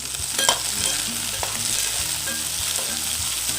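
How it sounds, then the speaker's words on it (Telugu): Two medium-cut capsicums stir-fried in a hot pan for restaurant-style veg Manchurian give a loud, steady close sizzle with scraping stir strokes. "ఇలా ఫ్రై అయిన తర్వాత ఇందులో క్యాప్సికమ్ అండి, 2 క్యాప్సికమ్, ఇవి కూడా మీడియంగా కట్ చేసుకున్నాను"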